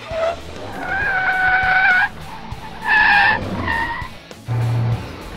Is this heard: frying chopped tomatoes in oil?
no